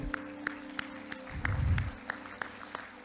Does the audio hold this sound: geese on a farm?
no